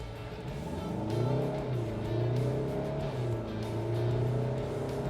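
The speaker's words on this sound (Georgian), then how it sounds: "მოდი გავჩერდები და ავჩქარდები ადგილიდან" A heavy 2026 Kia Sorento SUV with a diesel engine pulls away from a standstill, its engine drone rising and settling through the gears as a steady, moderately loud hum heard from inside the cabin.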